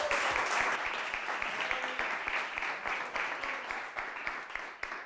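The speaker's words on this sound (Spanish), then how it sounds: "Toni, un fuerte aplauso para él." Audience applause at a startup demo day in a coworking space, a sustained steady wash of many hands clapping for about five seconds, moderately loud and without speech.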